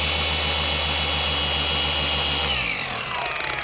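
A boat buffer polisher running a compound burnout, pad held flat on the hull, giving a loud, steady motor whine with a pulsing low hum that shifts pitch and drops near the end.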